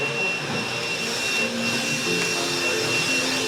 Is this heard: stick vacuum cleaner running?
yes